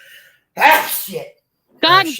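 One sharp sneeze bursts out close to the microphone during a casual live-stream hangout, followed by a pause, then a person talking.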